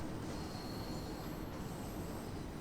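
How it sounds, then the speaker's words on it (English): A London Underground 1972 Stock train on the Bakerloo Line runs through a tunnel in Train Sim World 5, with a dense, roaring rumble and a thin high wheel squeal layered on top, steady throughout. "There's another train."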